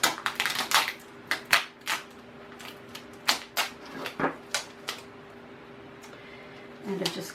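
Strips of flimsy tape pulled and pressed onto a homemade garden flamingo, a series of sharp crackling rips and taps at irregular intervals, close up, with no talk.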